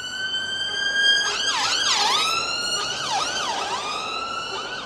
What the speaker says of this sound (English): It's all right, it's just an ambulance.